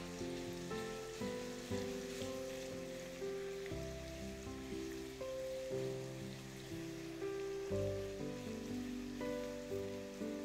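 Onions frying in a pan until light pink and soft, a steady soft sizzle and crackle running throughout, fairly quiet and close, with no talking over it.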